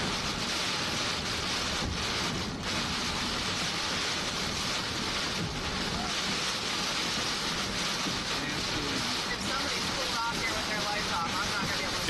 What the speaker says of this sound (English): Geez, it is windy in here.